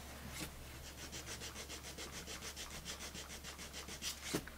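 Quiet, rhythmic back-and-forth scraping of sandpaper on wood, evenly paced strokes close up, with a couple of sharper scuffs near the end.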